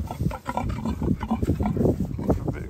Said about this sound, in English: Hello, mummy pig.